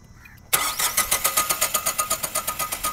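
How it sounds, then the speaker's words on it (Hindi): Starter of an out-of-petrol Tata Nexon 2024 petrol cranking in a fast, even rhythm of about five pulses per second without catching, loud and close after a brief quiet lead-in. "गाड़ी अब स्टार्ट करके दिखाता हूँ"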